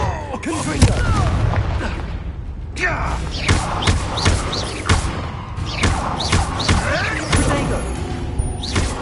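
Confringo blasting spells explode during combat in the video game Hogwarts Legacy: repeated heavy booms and thuds, fairly loud and close, mixed with game effects and voices.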